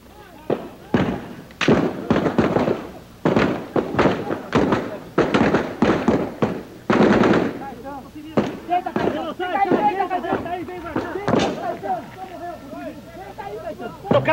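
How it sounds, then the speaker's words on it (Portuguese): Sharp bursts of gunfire crack repeatedly in irregular clusters during a large shootout in a city street, while a man sheltering behind cars talks urgently throughout, the shots loud and close. "Atenção, um grande tiroteio aqui na cidade."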